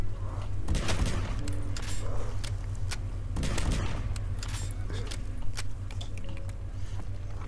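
Rapid gunshots crackle in a Minecraft zombies map, bursts of sharp clattering shots at close range over a steady low rumble.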